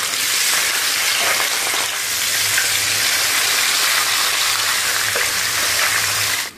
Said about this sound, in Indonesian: Langsung kita goreng aja.